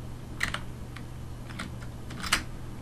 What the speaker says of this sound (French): le clavier commence à déconner